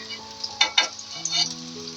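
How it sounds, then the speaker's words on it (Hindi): Onions browning in a pan over a high flame for chicken katakat, with a steady sizzle and a few louder scraping bursts near the middle, heard close and alone. "अब मैं प्याज को थोड़ी देर के लिए हल्का ब्राउन कर दूँगा"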